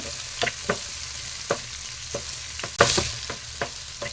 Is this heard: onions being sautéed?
yes